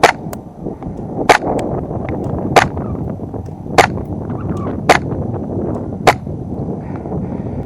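Tokyo Marui 4.3 Tactical Custom Hi-Capa airsoft pistol fired at an outdoor target, six sharp, evenly spaced shots about a second apart, each a crisp snap standing clearly above a steady background hiss.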